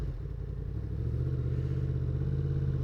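A 2024 Yamaha MT-10 motorcycle engine drones steadily and close, rising slightly in pitch as it pulls, with a rough mechanical rumble and no talking.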